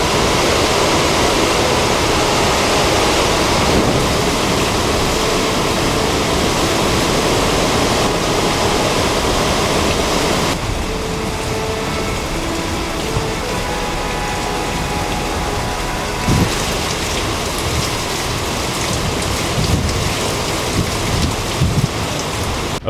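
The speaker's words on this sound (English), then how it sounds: "Intense, severe thunderstorm." Severe thunderstorm with heavy rain and strong wind gusts carrying small debris, a dense continuous roar of pouring rain and wind throughout, loud and close, with thunder rumbling beneath and no voices.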